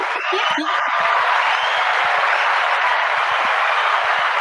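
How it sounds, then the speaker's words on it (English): An audience applauds with dense, continuous clapping throughout, with a few whoops and some laughter mixed in. "Ladies and gentlemen, give her a round of applause."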